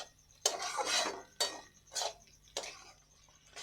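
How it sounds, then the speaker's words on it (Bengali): A spoon stirring fried egg into a pitha mixture in a pan, four or five distinct scraping strokes in an uneven rhythm, close up with no talk. "যে ডিমটা ভেজে রেখেছিলাম সেই ডিমটা এবারে দিয়ে দেব, দিয়ে ভালো করে নেড়ে মিশিয়ে নেব।"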